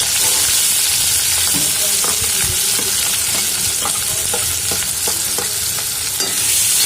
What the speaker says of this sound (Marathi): त्यामध्ये कांदा घालायचा कांदा घालून भाजायचा